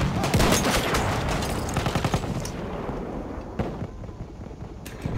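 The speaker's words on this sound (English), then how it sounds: "These field guns are fun." Field guns firing in Battlefield 1 during a Conquest match at Fao Fortress, loud booming shots and rapid gunfire crowding the first seconds, then thinning to scattered blasts with lingering rumble.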